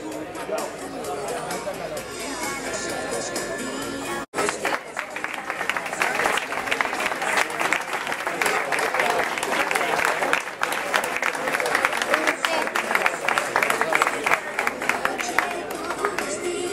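Crowd applause for runners at the Cursa Campi Qui Pugui 2008 footrace, a dense, sustained wash of clapping mixed with chatter that holds steady, with a brief break early on.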